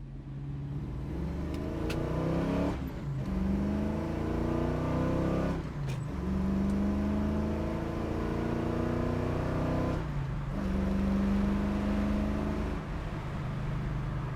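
A 1969 Chevrolet Camaro muscle car engine idles with a low, steady rumble, rising into three revs that climb and fall back, close and loud, with no talking.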